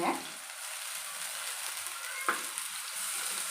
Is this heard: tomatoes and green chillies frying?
yes